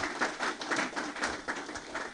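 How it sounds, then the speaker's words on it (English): Audience clapping at a university alumni association inauguration, a brief, moderately distant patter of many hands with no voices over it. "Kindly let us appreciate him with a hearty clap"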